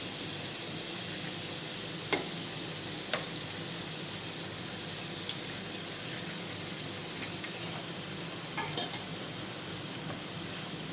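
Eggs fry and get stirred with seafood in a pan for Thai fried rice, a steady sizzle punctuated by a few sharp scraping clicks of the utensil, with no talking.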